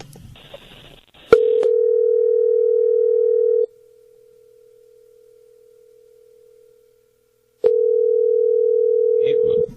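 Steady electronic tone on a landline call to a home phone: two long, loud stretches of a single pitch with a quiet gap between them, and a faint click at each change.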